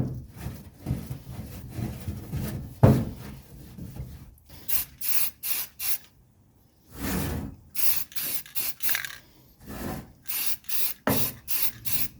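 Aerosol spray paint hisses in a run of short bursts onto brake parts of a 1983 Mercedes 300CD that were wiped down with acetone, each spurt loud and close with brief pauses between, after some rubbing sounds at the start.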